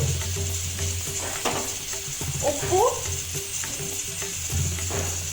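Ingredients for dal khichdi fried and stirred in a pan, a constant close sizzle with repeated spoon scrapes and a brief louder clatter in the middle, with a faint voice underneath.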